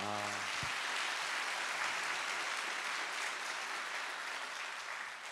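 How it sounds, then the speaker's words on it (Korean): An audience at a classical concert show claps, steady dense applause filling the room and holding for several seconds before slowly tapering, after a brief voice at the start. "박수 한번 주시죠."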